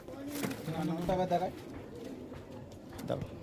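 Pigeons in a loft coo in low, rolling calls close by, mixed with wing flutters and people talking quietly in the background.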